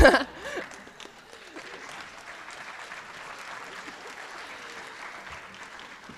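Audience at a high school honors tapping ceremony applauding, steady crowd clapping at moderate level after a brief loud voice at the start, continuing evenly to the end.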